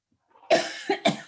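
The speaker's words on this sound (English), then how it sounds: "Sorry, I have this terrible postnasal drip cough." Three harsh postnasal drip coughs close to the microphone, one strong burst followed by two quicker ones in a short sequence.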